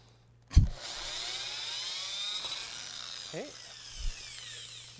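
A drill bores through MDF, starting with a sharp bump and then a sustained whine as the bit cuts, followed by a couple of brief knocks as it breaks through.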